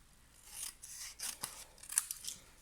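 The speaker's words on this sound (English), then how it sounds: "Now I'm going to cut this in half" Scissors snip through cardstock while cutting a sheet in half for a Christmas plaid card, giving several quiet, crisp slicing strokes in an otherwise silent room.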